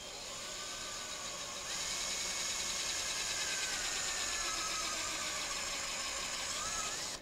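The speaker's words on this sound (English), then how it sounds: "this is a 3/8 inch brad point drill" A steady high-pitched motor whine as a cordless drill with a 3/8 inch brad point bit bores into wood, rising slightly in pitch partway through and holding for several seconds.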